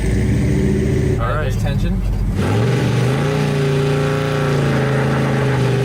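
A square-bodied car doing a burnout with the brakes off, engine revving loud and close as the wheels spin, a sustained roar with a sharp rising whine at the start.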